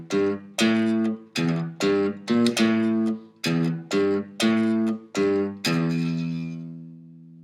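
Electric bass plays a riff, about ten plucked notes in the familiar stop-start rhythm, close and clean, the last note ringing out and fading.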